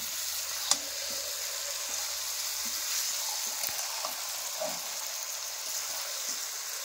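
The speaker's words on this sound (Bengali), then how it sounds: "আমাদের ম্যারিনেট করা চিকেনটা ঢেলে দেবো। আর একটু কষে নেবো" Marinated chicken for chicken kasha frying in a pan, giving a steady, even hiss and sizzle throughout, with a faint clink early on and light stirring noises, with no voices.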